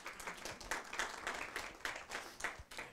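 A small literary-event audience claps in scattered, uneven applause, individual claps audible as a sparse, fairly quiet patter lasting a few seconds.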